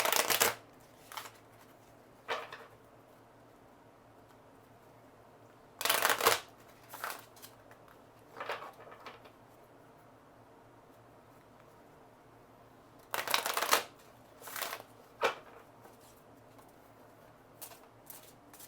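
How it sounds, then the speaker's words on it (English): Tarot cards are shuffled by hand in short, crisp riffling bursts separated by quiet pauses. The sound is soft and close, with no talking. "I like to shuffle before the shuffle because I feel like it just clears the cards and just prepares the space."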